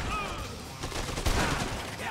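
Shotgun fire in the video game Dead Rising 2: Off the Record, a burst of booming, crackling blasts that layer into a dense roar and peak in one sharp shot over the game's background.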